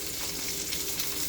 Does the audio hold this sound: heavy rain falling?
no